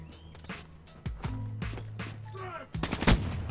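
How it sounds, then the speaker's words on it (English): Grenade blasts and gunfire in the video game Black Ops 3, a loud burst of shots and a sharp explosion near the end over game sounds, with faint voices underneath. "got him with the grenades"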